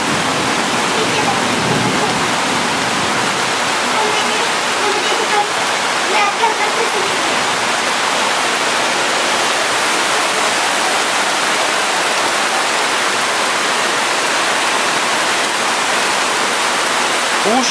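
Floodwater rushing down a street in Varna during a sudden flood, a loud, steady roar of churning water filling the whole scene without a break.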